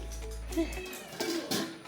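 A cat meows a couple of times at close range, short tonal calls over a low background hum.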